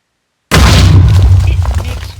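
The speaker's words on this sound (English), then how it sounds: "compact TNT. It might be like a small explosion or something" A compact TNT explosion in a video game, set off after a half-second of silence as one loud, close boom with a deep low thump that rumbles and slowly fades.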